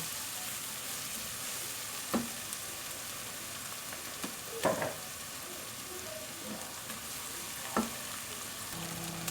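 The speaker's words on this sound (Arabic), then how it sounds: "اشوح البصل بتاعي كده" Onion with black pepper sautés in a pan with a soft, steady sizzle that runs throughout, broken by a few faint scrapes and knocks of stirring.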